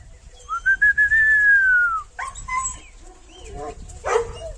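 A large dog whines with a long, high, sliding whimper, followed by a few shorter yelps and whines close by, with faint outdoor background noise.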